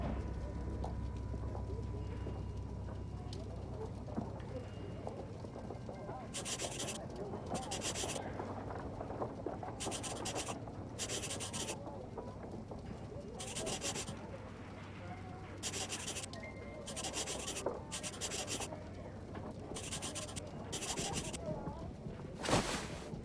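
Soft pencil strokes scrape and rub over traces on paper in the Sherlock Holmes: Crimes and Punishments detective game, repeated short scratchy bursts in an uneven rhythm over a low background drone, close and fairly quiet.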